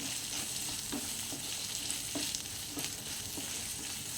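Chopped small onions sizzle steadily in a hot pan for a moringa-leaf dal curry, with a continuous close frying hiss broken by soft periodic scrapes as they are stirred.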